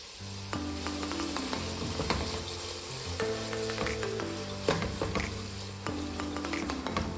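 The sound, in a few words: vegetables with salt being sautéed in a pan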